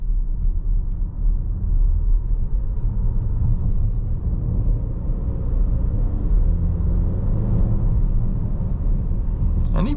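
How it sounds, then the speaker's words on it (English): Steady low engine rumble and road drone from a 2024 Volvo XC60 Plus with an 8-speed automatic, heard from inside the insulated cabin while driving, with faint turbo whine over a continuous loud, even hum. "And even some turbo noises going on too with the engine"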